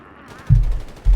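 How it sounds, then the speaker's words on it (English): Browning automatic rifle bursts in Company of Heroes 3, two loud low-heavy thumping volleys a half-second apart over faint background game ambience. "closing in with their Browning automatic rifles. Tearing into them quite rapidly."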